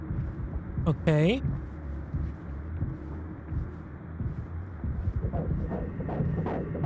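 In the video game Mouthwashing, a low rhythmic heartbeat throbs beneath a humming drone, the pulses growing heavier and closer toward the end, with speech on top.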